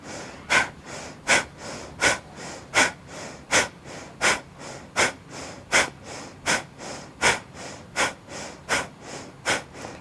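Deep rhythmic breathwork breathing, about fifteen forceful audible breaths at a fast steady pace, close and alone with no speech.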